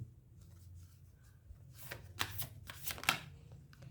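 Tarot cards being shuffled close up, a soft papery riffle that builds into several brisk bursts of flicking and slapping cards over a faint low hum, with no voices.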